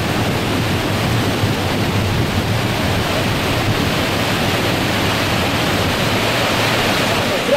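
Rushing water of a waterfall in Yosemite Valley, a loud, steady broadband roar that continues without a break throughout, close and dense with no other sounds standing out.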